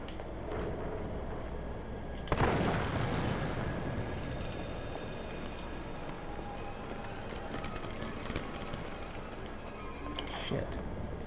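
A gunshot sets off an exploding barrel in the Resident Evil 3 remake, a sharp loud blast followed by a long rumbling decay, with a second smaller bang near the end.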